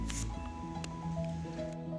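Salted cucumbers are pressed into a damp rice-bran fermentation bed for nukazuke, giving soft close squishing and rustling sounds with faint moist patter.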